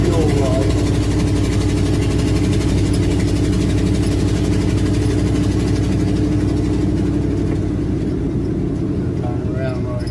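A rough-running engine whose carburetor is not taking fuel properly, a steady loud low rumble with an uneven idle that holds throughout, with faint voices in the background.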